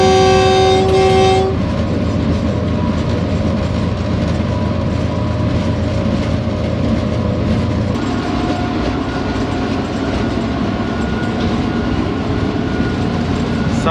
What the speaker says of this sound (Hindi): सफ़र जारी है और ट्रेन ने रफ्तार पकड़ ली है।